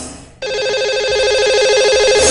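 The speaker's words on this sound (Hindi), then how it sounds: "चलिए उनका नंबर लगाते हैं।" A telephone ringback tone sounds steadily and fairly loud after a brief quiet start, as a radio show dials a lucky caller during a live call-in segment.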